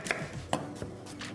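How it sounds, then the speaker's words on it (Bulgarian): A kitchen knife chops a small onion on a cutting board, making three or four sharp, close taps at an uneven pace with quiet pauses between them. "Но първо ще си нарежа лука"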